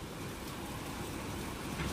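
Light monsoon drizzle falls outdoors as a faint, even hiss that stays steady throughout, with no voices.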